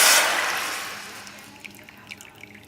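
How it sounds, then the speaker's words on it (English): Hot chicken soup poured into a pot, a loud broadband liquid splash at the start that quickly tapers into softer trickling and scattered drips. "We'll pour the hot chicken soup in there."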